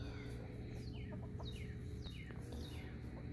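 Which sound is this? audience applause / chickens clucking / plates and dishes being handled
chickens clucking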